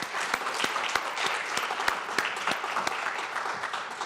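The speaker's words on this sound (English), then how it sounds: "now would be another good time for a round of applause for these three women" At a law symposium on transitional justice, an audience applauds three women, with moderate, fairly quiet clapping and a few sharp individual claps standing out in a short burst.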